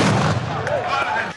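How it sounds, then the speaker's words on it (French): A final volley of gunfire at the Bouknadl equestrian festival in Morocco booms loudly and close, its rumbling blast fading over about a second with faint voices mixed in. "le public apprécie tout autant le coup de feu final"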